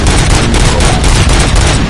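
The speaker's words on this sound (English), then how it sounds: "Gunshots? What's going on?" Gunfire in the video game RoboCop: Rogue City, a dense continuous rattle of overlapping shots that fills the whole moment loudly, with no voices over it.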